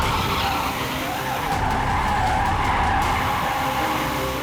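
A Rimac Nevera electric car drifting in drift mode, its tires skidding in a loud, sustained squeal and roar that runs unbroken throughout, with no voices.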